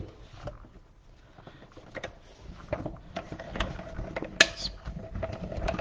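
Small die-cutting machine cranked by hand, feeding a cutting plate through with paper, giving quiet irregular ratcheting clicks and gear clatter that grow a little louder, with one sharp click near the end.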